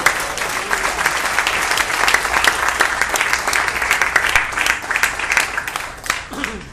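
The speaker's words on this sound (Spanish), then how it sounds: "Denle otro aplauso al Rey de Reyes." Loud, sustained applause from a large church congregation during a sermon, dense clapping filling the whole stretch with some voices mixed in.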